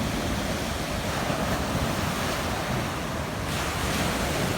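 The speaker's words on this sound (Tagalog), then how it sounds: "Ang laki kasi ng alon na yun" Continuous roar of large ocean waves crashing and surging, loud and steady throughout, with some wind buffeting the microphone.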